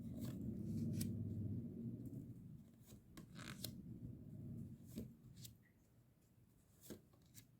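Tarot cards being shuffled by hand make soft, quiet riffling and rubbing sounds, with a few crisp flicks and snaps scattered through the clip and no talking.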